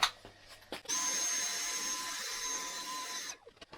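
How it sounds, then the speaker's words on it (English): A Hoover vacuum cleaner sucks loose static grass off a model. It starts after a couple of small clicks, then gives a steady, moderately loud whine with a hiss for about two and a half seconds before cutting off abruptly. "I'm not sure the Hoover really helped very much"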